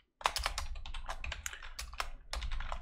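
Rapid keystrokes on a computer keyboard while setting up a FreeBSD terminal, a close, steady run of clicks with a few brief pauses and no talking.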